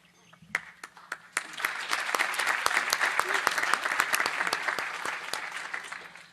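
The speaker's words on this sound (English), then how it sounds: "Let's have another round of applause for all of our panelists and our speakers." A few scattered claps quickly swell into full audience applause that holds steady and loud, many hands clapping at once.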